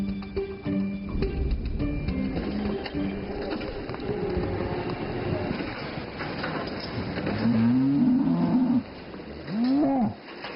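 A dairy cow lowing twice near the end, each moo a drawn-out call, the second shorter, after a stretch of mixed rumbling background noise.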